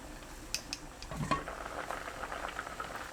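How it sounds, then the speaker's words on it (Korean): Rice-rinsing water with potatoes boiling on high heat in a lidded pot, a faint, steady low bubbling with a few small clicks and knocks. "쌀뜨물 800ml 넣고 뚜껑 닫아 센 불로 끓입니다"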